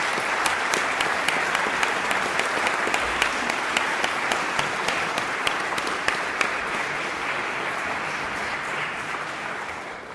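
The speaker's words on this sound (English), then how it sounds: "Let's give them a round of applause." An audience at the close of a debate event in Barcelona claps in sustained, dense applause that stays loud and even for about ten seconds before easing slightly toward the end.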